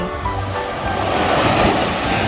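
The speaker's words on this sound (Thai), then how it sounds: "คลื่นก่อตัวกลางทะเล" Sea waves surge and wash in steadily at Layan Beach in Phuket, a continuous broad roar of surf with wind buffeting the microphone throughout.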